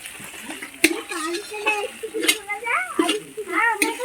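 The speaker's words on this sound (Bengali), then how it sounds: "ভালো করে ভেজে নেওয়া হচ্ছে দেখো বন্ধুরা" Ginger paste frying in a pan for chicken curry, a soft steady sizzle with occasional sharp stirring clicks, heard beneath someone talking throughout.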